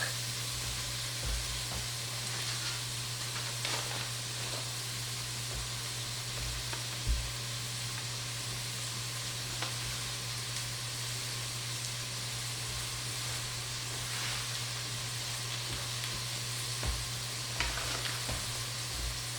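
Celeriac sizzles steadily in melted butter in a pan, a continuous close frying hiss with occasional soft clicks from stirring, with no talking.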